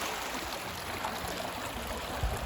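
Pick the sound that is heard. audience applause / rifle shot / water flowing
water flowing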